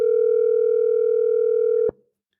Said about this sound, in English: That phone ringing on your rotary phone there in your computer.